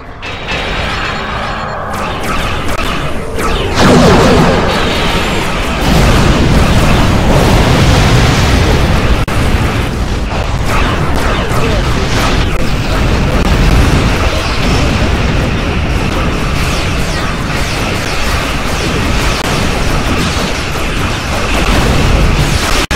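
Starship weapons fire and explosions in the Star Trek Online video game: loud, continuous booms and blasts roll over each other with mechanical rumbling and bursts throughout.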